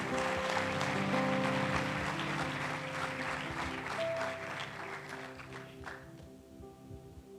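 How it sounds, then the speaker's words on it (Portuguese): A church congregation applauds with music playing, a dense, sustained wash of clapping that stays loud for several seconds and then thins out toward the end. "Aplauda o Senhor Jesus"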